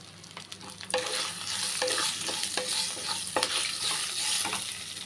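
Ginger chutney ingredients sizzle in a hot pan while a spoon scrapes and turns them, with several sharp clicks of the utensil against the metal over a steady frying hiss.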